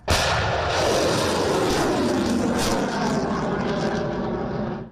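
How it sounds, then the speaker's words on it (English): Anti-ship missiles launched by Japanese units in a military exercise give a loud, sustained roaring blast with a sharp onset that holds steady for several seconds before cutting off, heard alone without voices. "That's the sound of anti-ship missiles being fired by Japanese units participating in the exercise."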